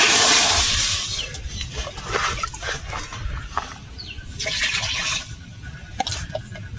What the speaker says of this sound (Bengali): 2 মগ জল দিয়ে দিচ্ছি।